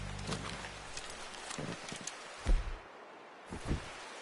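Hooves of a horse thud in Red Dead Redemption II, a few soft, uneven clip-clop steps with two heavier low knocks, close by and without any talk.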